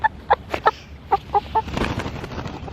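A hen in a backyard flock gives a series of short, sharp clucks in an uneven rhythm, close and clear, followed by softer rustling.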